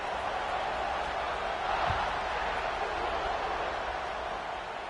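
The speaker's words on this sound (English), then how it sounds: "this crowd is feeling themselves after that last drive." Stadium crowd in the NCAA 26 college football video game on PS5, a steady broad roar of cheering fans held at even loudness throughout, with no distinct speech over it.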